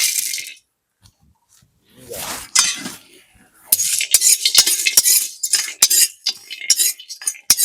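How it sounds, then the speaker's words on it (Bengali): Whole spices (cinnamon, cardamom, cloves, mace and nutmeg) dry-roasting in a pan for fried rice, sharp metallic scrapes and clinks from stirring, sparse at first then quick and repeated, close up with no talk. "তার জন্য প্রথমে ফ্রাইড রাইস মশলাটা একটু গরম করে নিচ্ছি"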